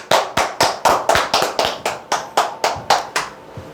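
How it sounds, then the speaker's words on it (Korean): Distinct claps ring out from an audience at a sales training seminar, about a dozen sharp evenly spaced beats, fairly loud and close, with no talking over them. "박수 한번 주시죠."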